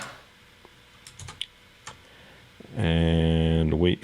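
Typing on a computer keyboard produces a few sparse, close key clicks, then a loud, sustained tone takes over near the end.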